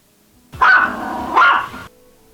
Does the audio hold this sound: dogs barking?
yes